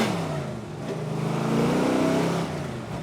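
A big, heavy Holden V8 race car engine built for Bathurst touring-car racing revs steadily and loudly, its deep rumble swelling mid-clip before easing slightly, with no voices over it.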